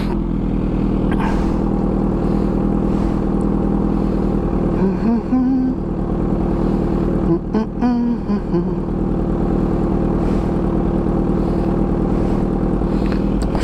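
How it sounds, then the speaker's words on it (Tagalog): Kawasaki Z H2 motorcycle engine warming up at idle, a steady close rumble holding throughout, with a person's voice briefly heard over it partway through. "Sakto yan habang nagpapainit tayo ng bike."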